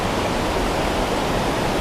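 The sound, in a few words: Kuthumkal waterfall in Idukki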